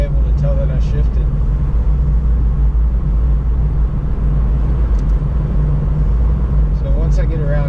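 A 2017 Subaru WRX with a new transmission mount is driving, heard from inside the cabin as a steady, loud low engine and road drone. There is no distinct gear-change sound.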